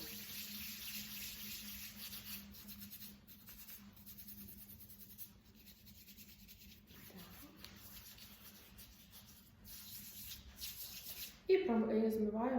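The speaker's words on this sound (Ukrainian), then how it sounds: "Для цього ми змочуємо руки проточною водою" Running tap water pours and splashes as hands are washed under it, a faint, steady hiss that holds throughout and ends in brief louder splashing near the close.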